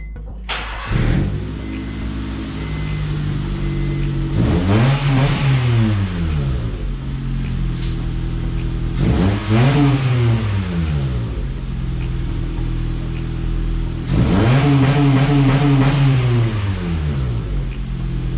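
A Honda Civic engine with a newly welded exhaust idles and revs hard three times, each rise and fall loud and close, with a raspy exhaust note and no talking.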